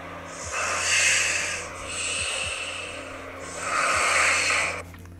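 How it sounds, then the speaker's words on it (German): Loud, rasping snoring from a sleeping person, three long drawn-out breaths with a harsh fluttering quality, close up and steady with no talk over it. "Du schnarchst immer so laut."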